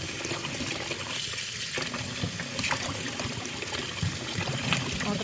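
Tap water pouring steadily while food for kare-kare is rinsed for the third time, a continuous close splashing trickle with no talking.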